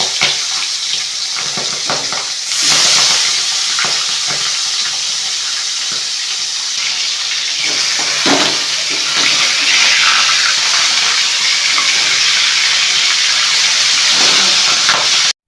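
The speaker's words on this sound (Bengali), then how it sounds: "এবার একটা একটা করে মাছ ছাড়তে হবে এবং ভালো করে মাছগুলোকে ভাজতে হবে" Pabda fish frying in hot oil in a Bengali kitchen, a loud, dense, continuous hiss and sizzle that swells after a few seconds and stays strong close to the pan.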